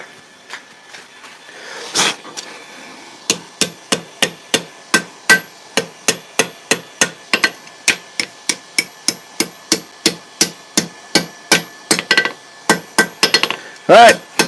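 Hot metal is hammered on an anvil while forging a puppy-dog bottle opener. Close, sharp ringing blows come in a steady series of roughly twenty-five strikes, with a few louder clanks and brief pauses between them.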